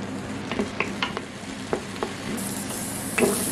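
Onions browning in a hot pan while cooking tomato lentils, with a soft steady sizzle underneath and a few sharp clicks and scrapes of a utensil stirring, close and fairly quiet.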